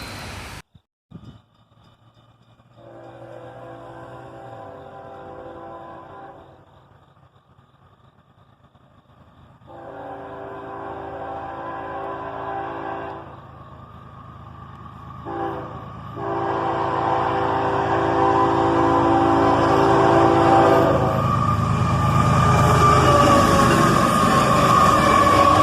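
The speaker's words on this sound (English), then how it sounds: "Another hotshot intermodal train heading north, led by a pair of ES44 ACHs." A northbound CSX hotshot intermodal freight train led by a pair of ES44AH locomotives sounds several long horn blasts with gaps between them, then the rumble and rail noise of the passing cars grow louder and build through the end.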